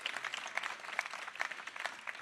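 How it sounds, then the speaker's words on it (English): Applause from a festival audience at Adelaide Writers' Week, a fairly quiet, steady patter of many hands clapping for about two seconds with no voices over it. "give yourselves a big round of applause for being at a festival"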